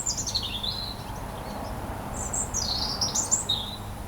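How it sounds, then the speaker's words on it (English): A robin sings in bright, high warbling phrases, two clear bursts of song against a steady low outdoor background, with no voices. "Known for their red breast, robins are common in many gardens and parks. They are easy to spot and have a cheerful song."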